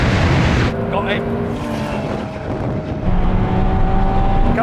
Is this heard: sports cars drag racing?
yes